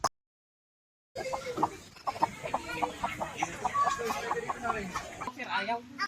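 Chickens clucking in short repeated bursts, fairly close, with background chatter and bustle of people around.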